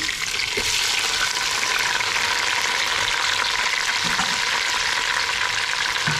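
Celery, onion, green onion and garlic cook in a pot for salmon chowder with a loud, continuous close sizzle and faint stirring scrapes, with no talking.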